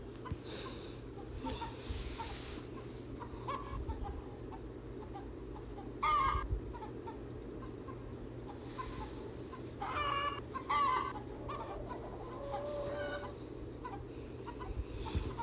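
Chickens in a coop on a farm cluck in short, scattered bursts over a constant low hum, some calls near and some farther off, with no talking.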